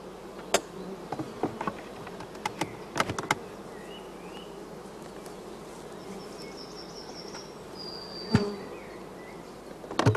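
Honeybees at a closed hive, a steady close buzzing drone with occasional louder passes of individual bees and faint clicks and taps throughout.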